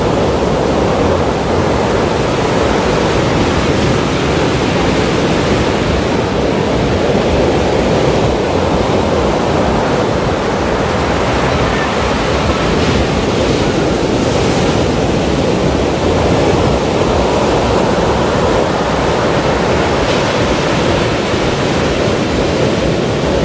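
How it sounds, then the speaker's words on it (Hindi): Sea waves break continuously on a Black Sea beach at Eforie Nord, a loud, steady roar of surf with gentle surges and faint wind, and no voices. "लहरें तो मतलब आ रही हैं"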